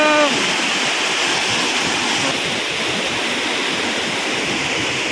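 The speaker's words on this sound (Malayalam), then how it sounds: "ഇങ്ങനെ വെള്ളച്ചാട്ടത്തിൻ്റെ ബാക്കി ഭാഗമാണ് താഴത്തോട്ട്. മേളിൽ നിന്ന് ഇങ്ങനെ വെള്ളം തുറന്നിട്ടേക്കുന്നത് ഇവിടെയാണ് വന്ന് ചാടുന്നത്." Shoolam waterfall, with water pouring down from above into the pool below, makes a steady, loud, broadband roar and splash that stays constant throughout, close by and alone with no talking.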